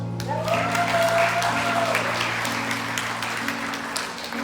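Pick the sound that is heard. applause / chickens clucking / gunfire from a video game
applause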